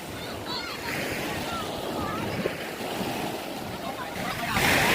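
Sea waves washing on a beach in Pioduran, Albay, heard as a broad continuous roar with wind buffeting the microphone and a louder surge near the end, while a few voices carry faintly in the background.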